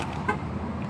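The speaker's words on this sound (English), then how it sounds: "Locking my car." A car being locked with a remote gives one short, faint horn chirp in an outdoor parking area, heard alone against low background noise.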